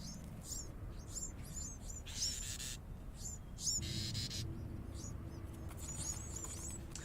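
Several high, thin chirps from a baby bird repeat in short bursts over a steady low hum, with brief broadband rustling noises between them and no talking.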